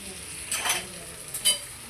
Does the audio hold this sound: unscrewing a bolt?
no